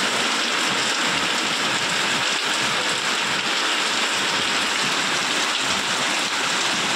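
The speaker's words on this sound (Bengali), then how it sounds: "আমাদের এদিকে কত জোরে বৃষ্টি পড়ছে।" Heavy rain pours down outdoors in a dense, continuous roar of falling water that stays loud and even from start to end, with no voices.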